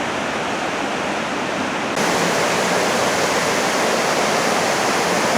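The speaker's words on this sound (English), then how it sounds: "The Laxey River coming down through here." The Laxey River on the Isle of Man rushes past old mining remnants, a steady, dense broadband roar of flowing water that grows noticeably louder about two seconds in and then holds constant.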